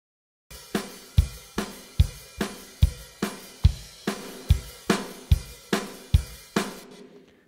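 Replacement drum sample from a drum-replacer plugin struck about a dozen times at an even, steady pace, each hit punchy with a short decaying tail, dry and alone.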